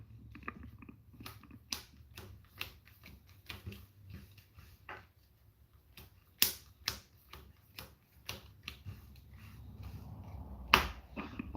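A deck of playing cards is shuffled three times during a tabletop card game session, giving a run of crisp riffling clicks and snaps at close range, irregular and quiet, with no talk.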